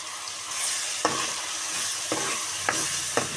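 Ginger garlic paste sizzles steadily in a pan while a spoon scrapes through it, with a few sharp knocks of the utensil against the pan at intervals over the constant frying hiss.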